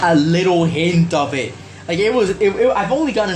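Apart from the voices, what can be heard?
None of the usual background noises is heard.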